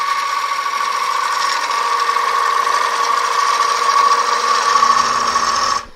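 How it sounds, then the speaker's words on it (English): A 3/8 gouge cuts into a gnarly crotch piece of wood spinning on a lathe, giving a loud, steady whining hum with a rough chattering edge that holds for several seconds, then cuts off abruptly at the end. "So I'm going to switch over to the 3/8 gouge to pick that cut up."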